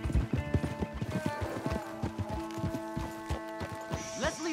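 Horses clip-clop in Red Dead Redemption 2, hooves striking in quick uneven beats with a short neigh near the end, set over a steady game soundtrack.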